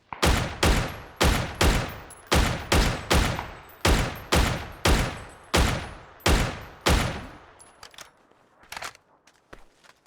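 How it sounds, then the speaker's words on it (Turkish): Rapid gunfire in the video game PUBG, about a dozen loud, sharp shots in a steady rhythm, close and alone, then a few fainter rattles and clicks at the end. "Arkamı dönüyorum mermi geliyor."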